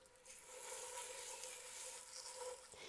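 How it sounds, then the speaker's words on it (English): Beef short ribs hiss and sizzle steadily in hot oil in a pan, a close, continuous frying sound that holds even throughout with no talk. "Now I'm gonna put my ribs in here. You hear the sizzle?"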